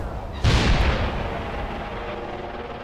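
A single loud gun fires close by in the Graviteam Tactics war game, a sharp blast followed by a long rumbling decay under steady battlefield ambience.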